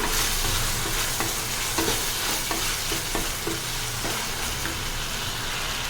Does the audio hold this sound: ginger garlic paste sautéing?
yes